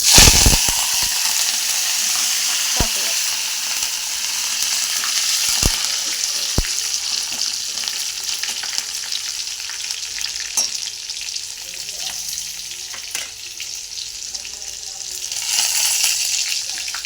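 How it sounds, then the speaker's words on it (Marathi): Green chillies and curry leaves fry in hot oil with mustard seeds and cumin for a cabbage dish, a loud continuous sizzle broken by sharp pops and occasional spoon clicks. "हिरवी मिरची कढीपत्ता चांगला तळून झालेला आहे"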